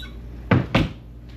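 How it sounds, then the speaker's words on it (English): Two wooden hotel-room drawers, not soft-close, bang shut in quick succession, close and sharp, followed by a fainter knock. "We have some drawers here, not soft close, don't really close."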